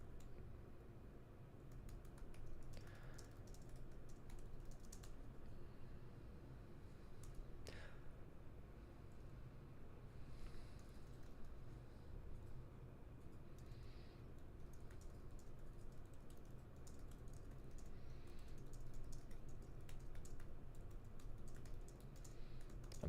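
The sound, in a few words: typing on a computer keyboard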